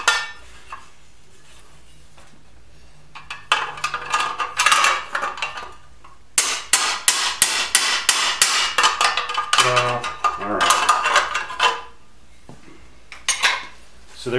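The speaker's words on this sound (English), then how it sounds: "I don't normally beat on this vise, but these are just aluminum" A hammer beats aluminum cans clamped in a vise in bursts of rapid metallic strikes and clanks, with short pauses between the bursts and no talk.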